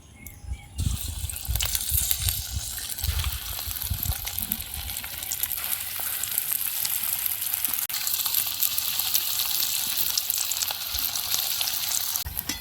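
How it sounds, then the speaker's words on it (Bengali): Bread slices fry in hot oil mixed with ghee in a pan, a loud, steady sizzle that jumps when the pieces go in and then holds constant, with occasional clinks. "এবার এক এক করে পাউরুটির টুকরোগুলোকে ভেজে নেব।"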